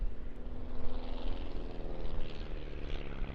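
Propeller-driven aerobatic plane droning steadily overhead at the Eastbourne International Airshow, a continuous mid-distance engine roar that swells and fades slightly as it manoeuvres.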